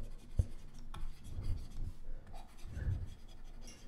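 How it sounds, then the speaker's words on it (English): Pen or marker writing out a triangle-area formula for a Class IX mensuration lesson, producing soft scratchy strokes and taps in a steady broken rhythm, close and fairly faint, with no talking. "Let me write down here, area of triangle."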